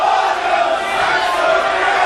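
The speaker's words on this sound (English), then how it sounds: "This crowd is amazing." Dense crowd cheering and roaring throughout an indie pro wrestling match, a steady loud wash of voices with no breaks.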